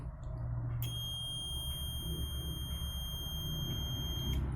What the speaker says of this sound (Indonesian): maka tester ini akan mengeluarkan bunyi